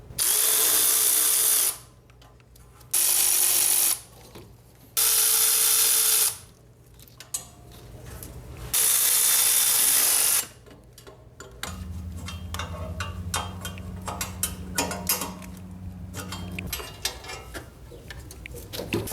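Loud bursts from a power drill or impact tool spin off exhaust header bolts on a 1995 Chevy OBS truck during an LS swap, four separate runs of a few seconds each, followed by quieter rattling shop handling.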